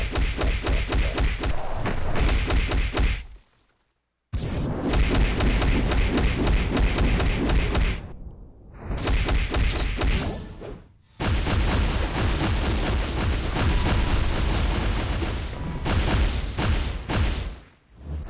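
Ant-Man's tier 3 attack in Marvel: Future Fight, dense rapid thumping impacts and booming hits in long loud bursts separated by brief silent gaps, close and continuous within each burst.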